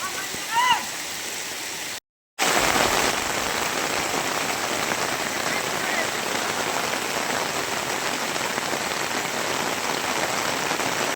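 Heavy rain pours steadily over coffee and pepper plantations in Karnataka's Kodagu district, an unseasonal downpour making a dense, continuous hiss after a brief cutout; a faint bird call and murmur come before it.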